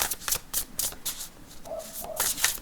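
Rhythmic riffling of a tarot deck being shuffled, repeated papery bursts close to the listener with a faint tone briefly underneath.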